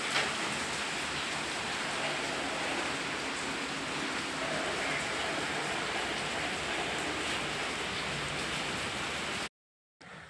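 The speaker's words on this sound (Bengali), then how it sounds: "একদম জল হয়ে যায় ছিটা বৃষ্টি পড়ে" A steady, even hiss of light rain falls continuously, soft and uniform, then cuts off abruptly near the end.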